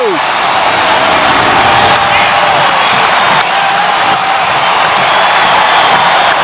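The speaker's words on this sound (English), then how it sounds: "This crowd has gone berserk here at the American Airlines Center." A packed American Airlines Center crowd roars without letup during a Mavericks playoff basketball game in the 2011 Western Conference semifinals, with dense, loud, continuous cheering and clapping like heavy rain, and faint commentary buried beneath.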